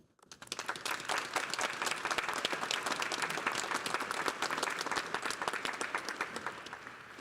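A commencement audience at Lamar University's College of Fine Arts and Communication breaks into sustained applause for a speaker, a dense, loud wash of clapping hands that rises quickly and holds steady for several seconds.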